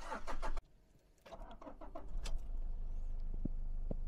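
A Toyota Kijang Innova V automatic with the 2KD diesel engine is started after a few clicks and jangling keys, the engine catching and settling into a low, steady idle with faint bird chirps outside.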